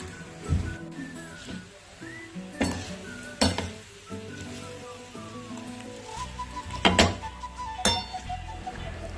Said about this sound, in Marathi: तळलेले शेंगदाणे थोडं मीठ थोडीशी साखर आणि हे छान परतून घेऊया